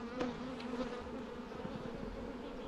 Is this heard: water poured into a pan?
no